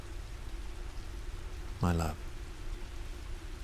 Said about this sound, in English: The rain continues, steady as ever.